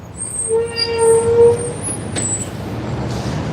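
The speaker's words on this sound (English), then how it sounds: "because I hear a train" A train passing nearby on a track, sounding a sustained horn blast with a high squeal above it, loud and close, then fading to a rumbling wheel roar.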